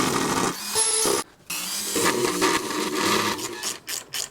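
Rotary sanding bit grinding against plastic on motorcycle crash bars for a Road Glide, a loud buzzing whir with short pauses and shifting pitch as it works the surface.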